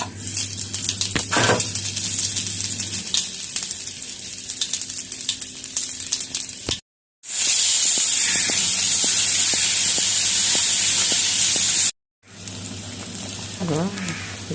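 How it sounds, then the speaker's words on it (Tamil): Mustard seeds with asafoetida crackling and spitting in hot oil for a Tamil sundakkai thuvaiyal tempering, a loud steady hiss with sharp pops, broken by two brief silent cuts. "கடுகு பொரிஞ்சிட்டு பெருங்காயம் பார்க்கலாம்"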